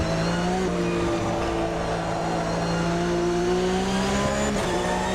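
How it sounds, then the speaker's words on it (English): Race car on a practice session track braking hard as its left rear tire drops off the track edge, engine droning steadily at close range with harmonic whine and a brief scrub near the end, no talk. "I dipped my left rear tire off the track while under braking, and that was all it took."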